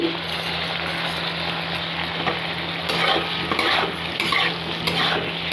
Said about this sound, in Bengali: চিনিটা দিয়েও ভালো করে এবার নেড়ে নেব